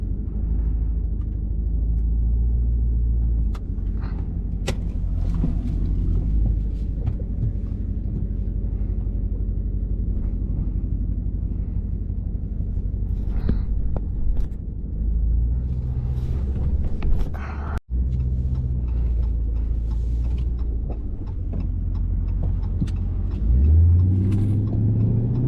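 A straight-piped RT fitted with a Borla exhaust idles while it warms up on a rainy day, a loud deep rumble that holds steady throughout. Near the end the exhaust swells briefly in a small rev.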